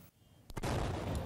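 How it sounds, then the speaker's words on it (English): A sudden loud blast bursts out on a Venezuelan street during violent election protests, a sharp crack followed by a sustained roaring rumble after a brief quiet lead-in. "A major explosion on the streets of Venezuela Sunday."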